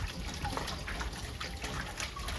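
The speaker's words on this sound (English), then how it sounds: "add some water to this." Water is poured onto raw chicken in a kitchen, giving a steady close splashing and trickling sound throughout.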